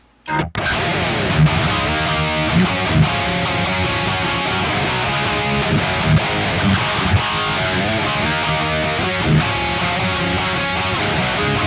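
High-gain electric guitar played through a Kemper profile of a Triple Rectifier amp, a dense, saturated distorted tone that rings continuously for about eleven seconds, loud and alone, with rhythmic chugging accents.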